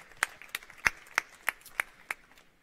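A small audience at a startup challenge checkpoint gives a thin round of applause: about seven sharp, evenly spaced claps, fairly close and isolated against a quiet room.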